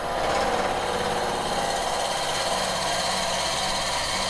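A wood lathe turning slowly at about 1,000 revs while a 20mm drill bit in the chuck bores into the workpiece, a steady dense whirring hum with grinding texture, continuous and close, with no talking.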